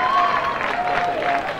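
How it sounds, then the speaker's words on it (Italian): An audience at a live singing show in Casenuove, Empoli, claps and cheers in a dense, steady wash of applause filling the short moment, with crowd voices mixed in. "Applauso, grazie."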